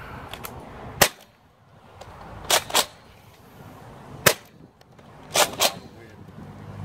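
Nerf Rival K-26 Helios blaster firing stock foam rounds outdoors into a headwind, heard as sharp snapping shots, one alone then quick pairs, each a loud crack with a brief tail over light wind.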